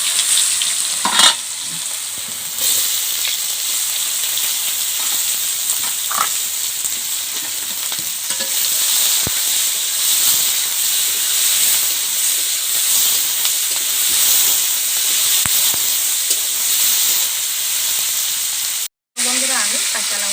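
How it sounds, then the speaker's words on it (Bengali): Onions sizzle in oil left from frying potatoes, with a loud, close, continuous hiss and steam and occasional stirring scrapes while cooking village-style chicken. "তো আমি আলু ভাজা তেলে আমি পেঁয়াজগুলো দিয়ে দেবো"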